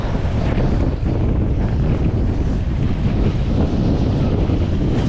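Strong, steady wind roars and buffets the microphone without a break, loud and close throughout, beside a fish pond with rough waves.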